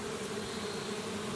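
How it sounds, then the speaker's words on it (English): Comedy sketch sound effect of bees buzzing, a short steady droning hum at moderate level, heard alone without voices. "Let me just count these bees. Can you hold still? Stop flying about."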